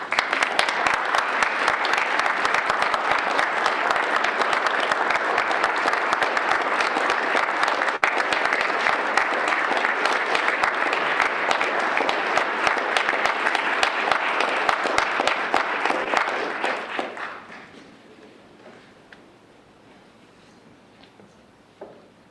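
An indoor audience at a Veteran's Day ceremony in Elgin, Illinois breaks into loud, sustained applause for standing veterans, holding steady for about seventeen seconds before fading quickly into quiet room tone.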